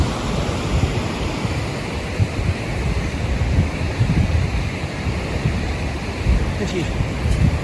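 River rapids rush in a continuous broadband roar, with wind buffeting the microphone in a loud, steady wash.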